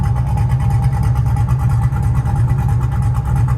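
A loud, cammed Infiniti G35 Coupe engine revs and rumbles continuously, with a choppy, lopey idle pulsing steadily throughout.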